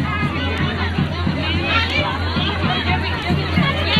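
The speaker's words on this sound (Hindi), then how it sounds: "लोगों की भीड़ देख सकते हो" Crowd at the Nanda Devi fair at the temple in Badrinath makes a steady babble of many voices nearby, with chatter and shuffling movement throughout and no single sound standing out.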